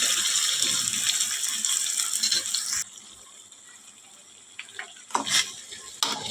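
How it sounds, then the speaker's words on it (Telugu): Mutton hits hot tempering oil for a gongura curry, a loud close sizzle for a few seconds that drops to a low simmer, then brief scraping stirs. "ఇలా తాలింపులోకి వేసేసుకోవాలి మటన్ అంతా."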